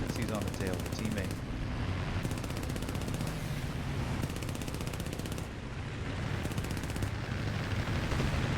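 Gloster Gladiator biplane machine guns firing in War Thunder, loud sustained bursts of rapid gunfire broken by short pauses, over a steady engine drone.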